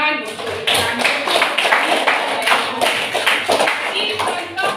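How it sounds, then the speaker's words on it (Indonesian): A junior high social studies class claps hands in rhythm on the teacher's cue, a lively run of quick, fairly loud group claps with some voices mixed in. "Tepuk tangan."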